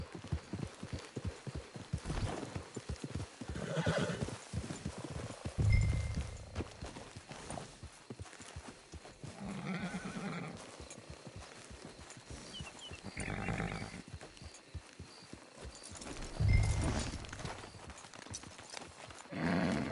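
Horse hoofbeats clip-clop steadily at a walking pace in a console video game, moderately close and continuous with faint ambient background.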